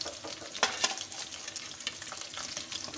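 Fish pieces frying in a pan of hot oil for a fish curry, a steady crackling sizzle with a few sharper pops and splatters near the start, close and continuous with no talking.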